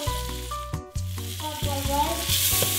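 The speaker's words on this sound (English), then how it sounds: "we're gonna fry this on both sides a few minutes, 1 or 2 minutes" A basturma omelette sizzles and fries in a pan, a steady crackle beneath loud repeating tonal music.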